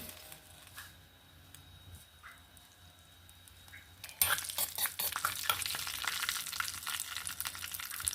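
A tempering for carrot chutney hits hot virgin coconut oil and bursts into loud, bright crackling and sizzling midway, after a quieter stretch of faint clinks and handling noises.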